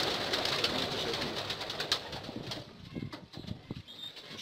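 Pigeons coo softly while wings flap and flutter nearby, a burst of flapping at first that thins into scattered soft wingbeats and calls.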